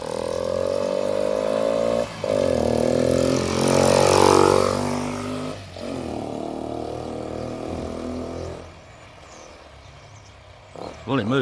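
A Honda XL125S motorcycle engine runs close by as it warms up, its droning tone wavering and surging with a couple of brief dips, while people talk over it; near the end it drops and quiets.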